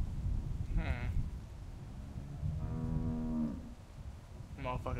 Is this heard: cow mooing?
yes